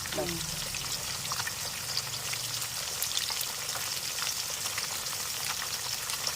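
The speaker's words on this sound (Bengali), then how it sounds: "বড় মাছ হচ্ছে তো একটু আস্তে আস্তে করে আগে একদিকে ভাজা হয়ে যায়" A steady hiss and crackle of rohu fish frying in hot oil, moderately loud and continuous, with a short low thump at the start.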